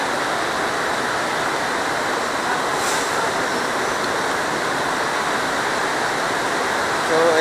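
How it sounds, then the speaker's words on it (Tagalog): Rainwater flows and splashes steadily into an outdoor tennis court, a constant rushing wash with no break. "pumapasok yung tubig."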